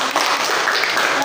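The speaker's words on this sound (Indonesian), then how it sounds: "Tepuk tangan untuk kelompok 3." Classroom applause from primary school pupils for a student group that has just presented, a dense steady wash of clapping lasting about a second.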